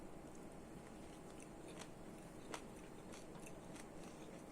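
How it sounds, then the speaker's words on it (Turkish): Bites and chewing of a spoonful of diet lentil salad, with faint soft crunches scattered over a steady background hiss and no talking. "salatamızdan bir kaşık alıp tadına bakalım"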